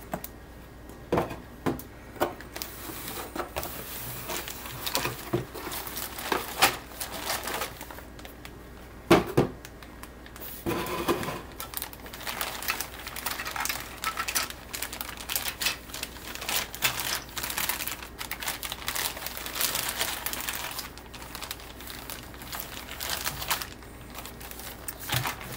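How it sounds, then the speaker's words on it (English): A part is cut out of a tightly fitted model ship kit box, bringing close, irregular clicks, taps and papery crinkling in short bursts with brief pauses between them. "Now, I will cut this out."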